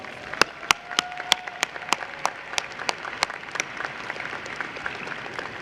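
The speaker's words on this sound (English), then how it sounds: "Can we please give Dr. Michael Verarami a round of applause?" Audience at a Penn State Harrisburg fall commencement ceremony breaks into applause, a few distinct sharp claps standing out near the start before settling into a steady, moderately loud crowd clapping that continues throughout.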